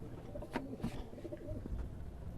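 Pigeons of Pakistani blood line at a sale, soft low cooing, a few short coos heard faintly through background noise.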